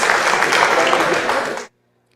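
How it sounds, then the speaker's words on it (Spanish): Dense audience applause at a university talk on novel writing, a steady roar of many hands clapping close by that stops abruptly after under two seconds. "Un aplauso más fuerte."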